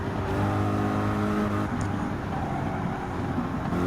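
A race car engine from Gran Turismo 7 holds a steady, loud drone at the Circuit of the Americas, its harmonic tones climbing and shifting as it works through the gears, with no talking over it.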